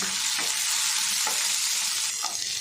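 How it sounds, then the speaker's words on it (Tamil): Tomato and onion sauté with ginger and garlic in a hot pan, giving a dense, loud, continuous sizzle with a few soft stirring scrapes. "தக்காளி வதங்கும் போது"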